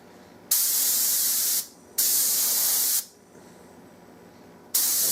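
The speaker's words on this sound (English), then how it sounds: "I've got it turned way down where there's very little flow, and it's a very, very fine mist." A spray gun set to very low flow lays a very fine mist of finish onto a Turkish walnut gunstock, heard as three steady hissing bursts of about a second each with short pauses between and a fourth starting at the end.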